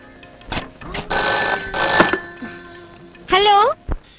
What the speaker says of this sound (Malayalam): ലക്ഷ്മിയെ ഫോൺ എടുക്ക്.